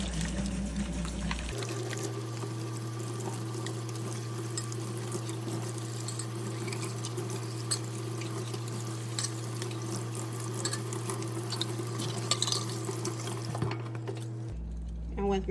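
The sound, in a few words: water draining and rinsing canning jars in sink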